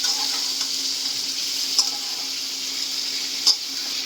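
Potato, pointed gourd and egg sautéing with spices in a pan for a pointed gourd biryani give a steady, soft sizzle and stir, with two brief sharp clinks of a utensil partway through and no talking.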